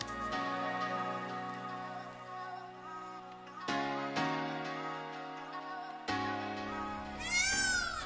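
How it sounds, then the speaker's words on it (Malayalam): Peacocks call on Peacock Island (Pfaueninsel) in Berlin: long, wailing, cat-like cries that swell and fall in overlapping stretches, loud and fairly close, with a faint sharp rising call near the end. "ഈ ശബ്ദം കേട്ട് കഴിഞ്ഞാൽ നമ്മുടെ നാട്ടിലെ കണ്ടം പൂച്ചകളെന്ന് വിളിക്കും പോലെ അല്ലേ? പക്ഷെ അതല്ല, മയിലുകൾ എന്ന് വിളിക്കുന്നതാണ് കേട്ടോ."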